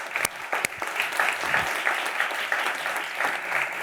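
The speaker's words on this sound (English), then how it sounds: "Let's give him a hand to start with that." An audience gives a round of applause for an author at the start of a book tour event, a few sharp early claps swelling into a steady crowd ovation that holds evenly, close and full.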